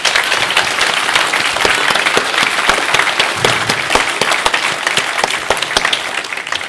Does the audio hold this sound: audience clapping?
yes